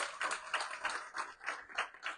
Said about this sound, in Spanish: Un aplauso ahí a multimedia.